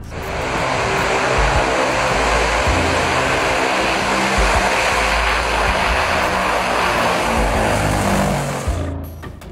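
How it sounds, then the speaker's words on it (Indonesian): A loud, steady drone of a Tu-95 bomber's four Kuznetsov NK-12 turboprop engines with a deep pulsing throb and broad roar, continuous throughout and close by. "pesawat bermesin turboprop yang besar dengan 4 mesin turboprop Kuznetsov"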